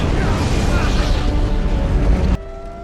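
A loud, deep secondary explosion inside a mine cave roars as a sustained rumbling blast, then cuts off abruptly, leaving a faint low hum.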